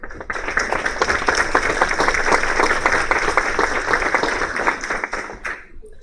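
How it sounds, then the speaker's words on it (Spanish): An audience applauds at a workshop on the Family Procedural Code after a talk: steady, dense clapping fills the room throughout, then thins slightly near the end. "le damos un fuerte aplauso, por favor"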